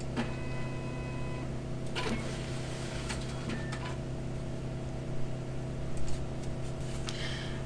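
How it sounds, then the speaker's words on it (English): A high-speed scanner's auto feeder pulls a check stub through with a low motor hum, faint whirring and a few sharp mechanical clicks and clacks, quiet and without any talking. "Drop the check stub in the auto feeder of your high-speed scanner"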